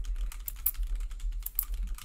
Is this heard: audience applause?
no